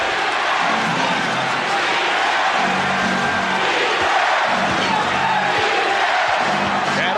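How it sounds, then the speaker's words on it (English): A dense arena crowd roars continuously at a 1991 NBA Finals game between the Chicago Bulls and Los Angeles Lakers, with rhythmic low chanting pulses rising through the noise and a commentator's voice faintly over it. "Defense from this foreign crowd."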